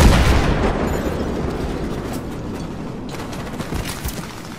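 Battlefield 3 on Xbox: dense, rumbling gunfire and explosions in a video game battle, a continuous loud wash of shots and booms without talk.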